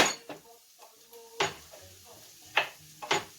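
A knife blade comes down to smash small garlic cloves on a cutting board, giving several sharp, close knocks at irregular intervals with light clatter between them and no talking.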